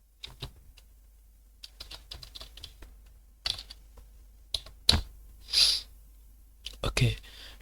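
Fast, irregular typing on a computer keyboard while a first name is entered into a sign-up form, close-up clatter of keys with a few louder clicks and brief pauses.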